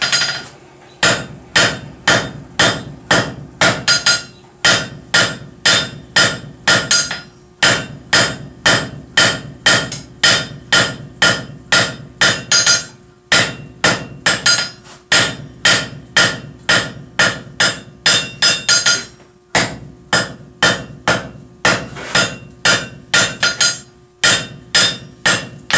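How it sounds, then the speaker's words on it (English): Steady, loud hammer blows on hot metal at a forge, struck in quick bursts of ringing strikes separated by short pauses, close and clear with no talk. "Get back to hammering."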